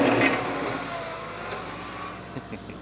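A car speeds past on a road beside rain-soaked raw land being cleared, a steady broad roar that stays loud and close for the whole moment.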